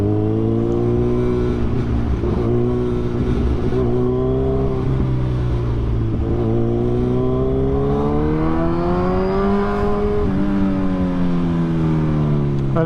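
A Kawasaki Z1000R motorcycle engine revs steadily and loudly up close, its pitch swelling and falling through repeated throttle blips with no talk over it.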